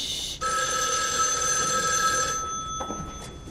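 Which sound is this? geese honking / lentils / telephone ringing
telephone ringing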